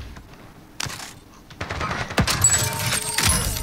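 Gunfire in the Warzone video game, scattered shots and short automatic bursts growing louder and denser toward the end, with a few sharp impacts.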